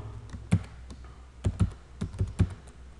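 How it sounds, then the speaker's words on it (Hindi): Computer keyboard keys pressed while entering text into an Excel spreadsheet, a handful of close, distinct clacks in small irregular bursts against a quiet room, with no talking. "यहाँ मैं सिंपली लिख दूंगा कैप लॉक दबा के चेक बुक, और इंटर करके यहाँ लिखता हूँ"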